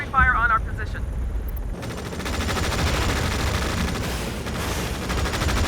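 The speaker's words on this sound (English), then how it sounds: "Artillery fire on our position." Artillery and heavy gunfire pound a position in Tom Clancy's EndWar, a dense continuous barrage of booms and rattling shots, loud and close, following a brief radio voice at the start.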